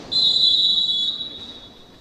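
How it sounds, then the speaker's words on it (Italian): A referee's whistle at a women's roller hockey match gives one sharp, loud, sustained shrill blast that tails off, with faint arena ambience beneath. "fischio dell'arbitro"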